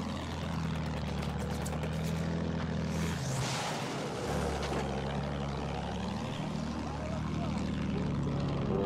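A fighter plane in Battlefield 1 drones with a steady propeller-engine roar throughout, sweeping through a brief swell and dip in pitch midway as it passes close by.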